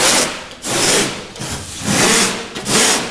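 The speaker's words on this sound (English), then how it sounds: "Just looking to scuff it up." Fiberglass on a Whitehall Wherry boat hull is lightly scuffed with abrasive in repeated back-and-forth strokes, a loud, close, rhythmic rasping with short pauses between passes.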